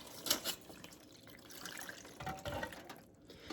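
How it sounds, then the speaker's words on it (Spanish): Water poured from a tap into a steaming pot for corn tamales (tamales de elote) lined with aluminum foil, a soft, uneven splashing and trickling that swells and fades at close range. "Les voy a poner agua acá para empezar a ponerlos a hervir."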